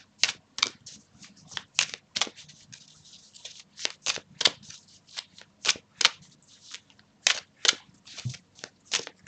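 Oracle cards are shuffled by hand at close range: a long run of crisp riffling snaps and soft slides in an uneven rhythm, loud and alone in a quiet room.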